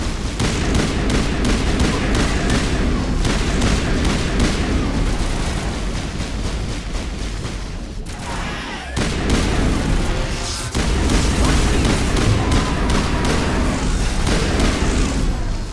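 Sustained gunfire in Mass Effect Legendary Edition as the player shoots crew members: dense, loud, rapid shots with booming impacts run nearly throughout, broken by a brief lull near the middle, with no talk.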